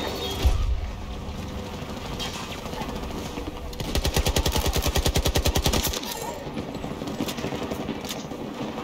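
A new weapon in Battlefield 2042 fires a rapid automatic burst of about two seconds, loud and evenly spaced, between stretches of in-game background noise and a single earlier shot.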